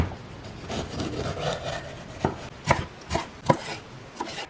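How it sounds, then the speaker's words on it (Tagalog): A knife chops ingredients into small pieces for pizza bread rolls. The sharp board knocks come close and loud, irregular at first and then as a quicker series of distinct chops. "Hiwain lang natin pareho ng maliliit."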